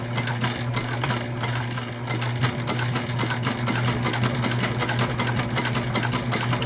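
A Juki sewing machine stitching vinyl bag material runs steadily up close, a rapid rhythmic needle clatter over a constant motor hum, with no talking.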